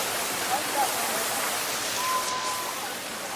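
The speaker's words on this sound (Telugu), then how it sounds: "రోడ్డు పక్కనే వాటర్ ఫాల్స్ బాగుంది కదా చూడడానికి" A roadside waterfall on the walking route to Tirumala pours in a steady, broadband rushing roar close by, unbroken and even throughout, with a faint whistle-like tone briefly above it.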